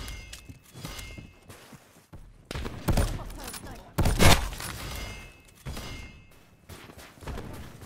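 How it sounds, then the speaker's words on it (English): Sniper rifle fire in Call of Duty Black Ops 4, several sharp heavy shots spaced a second or so apart amid game noise, with a few thuds and a voice briefly heard. "Sniper firing."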